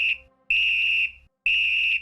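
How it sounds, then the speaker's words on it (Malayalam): A referee's whistle blown to start a wrestling match sounds in loud, shrill blasts: a short one, then a long one, then another long one after a brief gap, with nothing else audible. "3 പ്രാവശ്യം വിസിൽ അടിച്ചു കഴിഞ്ഞാൽ റെസ്ലിംഗ് തുടങ്ങുന്നതായിരിക്കും"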